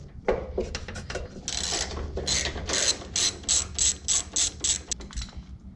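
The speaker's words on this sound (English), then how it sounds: "We're going to remove this Allen screw at the front." An Allen wrench ratchets out a screw on a Precor 932i treadmill, giving a close, loud run of rapid clicking pawl bursts with short pauses between turns.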